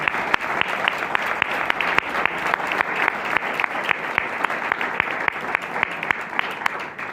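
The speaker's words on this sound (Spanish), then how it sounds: "Dale un fuerte aplauso a Jesús." A church congregation applauds during a Spanish-language sermon, a loud, continuous wash of many hands clapping with brisk individual claps standing out across the whole stretch.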